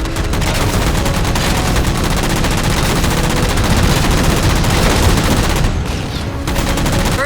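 Sustained, rapid automatic gunfire from Halo 4 as jammers are shot down, loud and continuous for the whole stretch with only a brief dip near the end.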